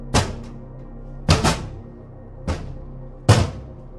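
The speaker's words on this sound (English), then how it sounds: "A heavy thud directly behind me. It sounded like a boot hitting the tile" Four heavy thuds like a boot hitting a tile floor land at irregular intervals, each a sharp knock with a brief deep rumble, close by in an otherwise quiet space.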